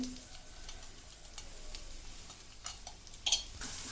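An egg masala omelette sizzles and crackles in hot oil in a pan, a steady frying hiss with scattered pops and a few louder clinks near the end.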